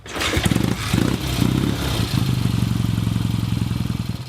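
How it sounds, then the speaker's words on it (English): A 1967 BSA Thunderbolt motorcycle's exhaust blips and revs in short bursts, then settles into a steady, close, loud deep-throated rumble with a rapid pulsing beat. "That deep-throated exhaust note of that bike is wonderful."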